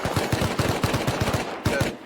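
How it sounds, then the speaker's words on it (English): Gunfire in the video game Rust: a rapid run of sharp automatic shots in a steady rhythm, then a short gap and a final burst of a few more rounds, loud and close, with no talk. "Some gunshots nearby."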